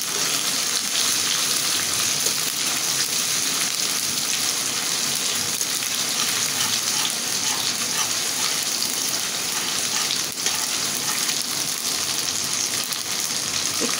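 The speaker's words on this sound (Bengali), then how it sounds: "আদা রসুনটা আমি ভালো করে কষিয়ে নেব। একটু জিরে বাটা দিলাম।" Ginger, garlic and cumin paste fries in a pan with a steady, dense crackling sizzle that carries on evenly and close by, with no voices over it.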